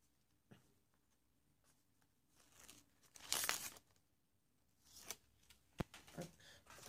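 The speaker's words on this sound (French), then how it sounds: "Et là, on vient marquer les plis. On fait pareil de l'autre côté." Paper folds being creased by hand for a Christmas photo album made from a blue craft kit: quiet, close scraping and crinkling rustles in a few short bursts, with one louder swipe in the middle.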